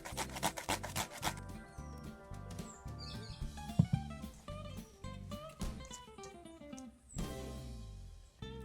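A cucumber is rubbed against the shredding side of a grater in quick rhythmic rasping strokes, close and fairly quiet, then slower scrapes toward the end, with no talk.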